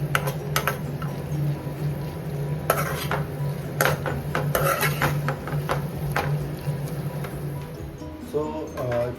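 A utensil stirs mushrooms in a pan while they sauté with masala and salt over a soft sizzle. Repeated scrapes and clinks against the pan sound close, and a voice speaks faintly underneath.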